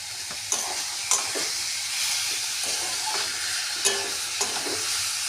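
Hog plums and sugar cooking in a pan for pickle, a steady close sizzle and hiss with a few soft stirring knocks throughout.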